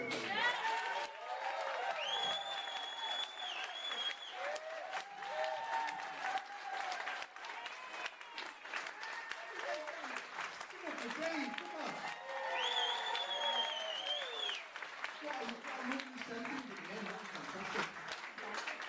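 Audience applause for a comedian named Dave at a comedy show, steady clapping filling the room for the full length, with scattered cheers and a voice speaking over it.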